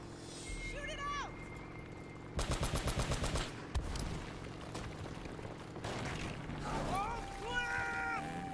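Gunfire in Uncharted: Drake's Fortune, a loud rapid burst of automatic shots in the middle followed by scattered single shots and combat effects, with game voices and a player talking over it.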